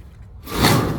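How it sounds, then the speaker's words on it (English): Old doors on a very dirty shed are forced open, a quiet moment and then a sudden scraping, rumbling thud at close range lasting about half a second. "Let's see if they'll even open the doors."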